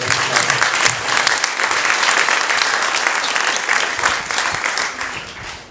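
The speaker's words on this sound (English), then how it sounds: "we give a round of applause to the staff please?" Wedding guests at a reception in Kent applaud the staff with loud, sustained clapping that stays full and even before easing slightly near the end.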